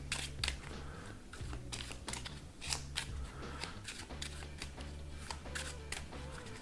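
Deck of playing cards being shuffled, a quick close run of crisp riffling snaps and flutters in short bursts over a low background hum.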